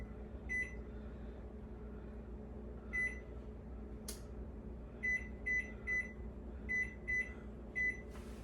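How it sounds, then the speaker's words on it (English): Repeated high electronic beeps from an oven timer, single then in quick groups of three, over a steady low hum of a running appliance. "The timer has gone off and beeped again."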